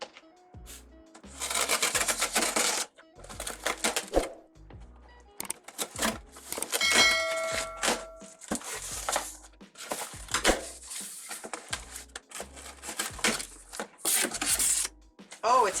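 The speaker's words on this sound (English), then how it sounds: "I got a box today from Amazon and I'm going to open it up" An Amazon delivery box being opened, with bursts of crinkling, tearing and rustling cardboard and packing material, irregular and close, broken by short pauses.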